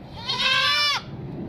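A seven-year-old goat on a farm, around the time it gives birth, lets out one loud, close, drawn-out bleat lasting under a second over quiet background noise.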